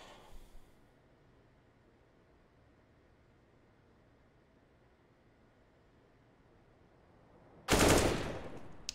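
A Counter-Strike match on Vertigo: after a brief burst at the start and a long quiet stretch, a sudden loud gunfire burst erupts near the end for a headshot.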